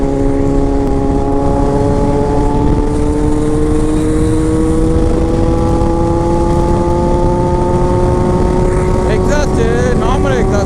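A Kawasaki Z800 motorcycle on its stock exhaust runs nearby with a steady, smoothly rising engine drone, revving gently and holding a loud even tone throughout.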